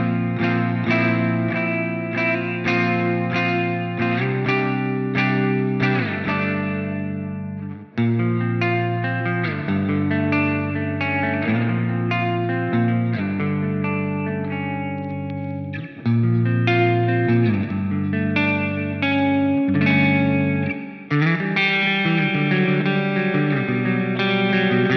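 An electric guitar runs through the Aurora DSP Laboga amp plugin on its Ice Cold Room preset, giving a low-gain black metal tone with chorus and echo. Ringing, shimmering chords change every few seconds and trail off with brief drops in between.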